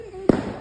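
A Diwali firecracker bursts once with a sharp, loud bang partway through, under a voice talking before and after it.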